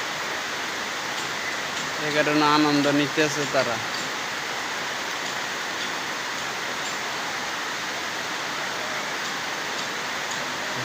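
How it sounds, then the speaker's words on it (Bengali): Rain falls steadily in Tongi, making a constant even hiss throughout. A person speaks briefly early on. "বৃষ্টি হইতেছে তো,"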